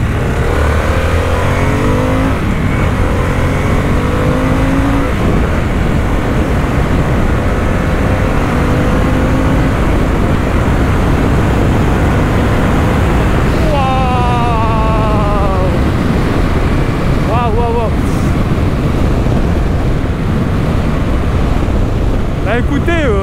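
Harley-Davidson Sportster S 2024 cruiser motorcycle accelerating hard, a loud continuous engine roar with rising pitch sweeps through several gear changes, masked by heavy wind rush across the whole run.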